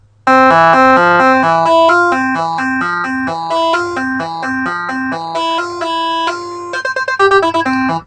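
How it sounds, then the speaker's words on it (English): A bright synthesizer melody programmed in FL Studio plays a quick, bouncing pattern of tones, loud and clear, speeding into rapid notes near the end. "so we have our synth line here too."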